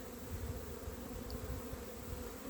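Honey bees buzz around an opened nuc hive during an April inspection, a steady low drone that is close, continuous and fairly faint, with no one talking.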